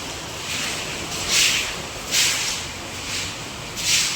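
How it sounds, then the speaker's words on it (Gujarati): Heavy rain falling steadily outdoors, a dense broad hiss with gusty swells every second or so, no voices. "ફૂલ વરસાદ છે મિત્રો અમારે."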